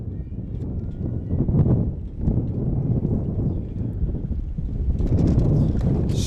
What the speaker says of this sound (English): Strong wind gust, really bad one for us here.